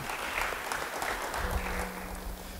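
Church congregation applauding in praise of Jesus at an Indonesian worship service, a dense continuous wash of many clapping hands, fairly loud and even throughout.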